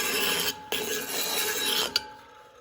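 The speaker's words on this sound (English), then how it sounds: "I'm gonna sand this blindly to transition it in." A wooden hand mirror is sanded by hand with steady rasping strokes, a few long scrubbing passes with brief pauses between them, close and fairly loud.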